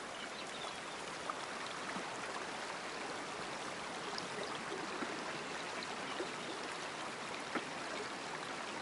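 A stream flows steadily in the Way of the Hunter video game, a continuous soft broadband rush of running water, quiet and even throughout with no voices.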